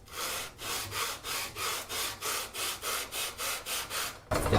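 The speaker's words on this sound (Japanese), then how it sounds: "まっすぐな鉄の棒にヤスリを貼り付けてます。" Rhythmic strokes of a file stuck to a straight steel bar, rubbing across the wood of a handmade classical guitar, about a dozen even back-and-forth rasps, close and fairly quiet.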